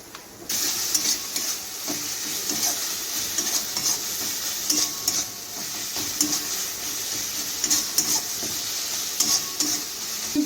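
Marinated meat masala sautéing in oil for a Jamai Sasthi feast, stirred in the pan: continuous bright sizzle with repeated spatula scrapes and clinks, close and steady with no talking.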